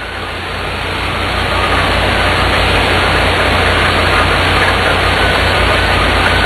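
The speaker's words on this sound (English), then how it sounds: "Just wanted to give you a little flavor of what the engine sounds like at idle." A GM Performance Parts CT525 circle track stock car crate engine idles loudly and steadily, a dense rumbling roar that holds constant throughout with no voices.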